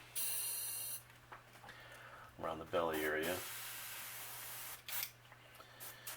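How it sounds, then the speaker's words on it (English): Short bursts of airy hissing from an airbrush spraying paint onto a crankbait lure, a long one at the start and brief puffs later, with a person speaking quietly in between. "Always test your airbrush to make sure it's spraying properly off your work."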